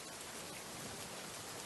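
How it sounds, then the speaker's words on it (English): Steady heavy rain pours onto windows and an empty apartment courtyard below during a night thunderstorm, a dense continuous hiss with no talk. "Rain flooded the courtyard below."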